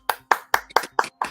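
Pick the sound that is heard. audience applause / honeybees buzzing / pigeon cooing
audience applause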